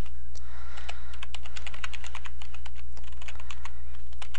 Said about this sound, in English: So let's type that.